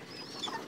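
A white Hungarian-breed pigeon calls in a short, soft burst of cooing, faint and close with no talk over it.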